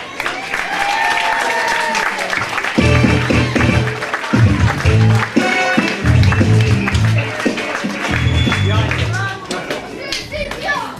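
Audience at an under-15 football award presentation night applauds loudly and steadily from start to finish, with a deep rhythmic thumping beneath the clapping from about three seconds on and voices mixed in.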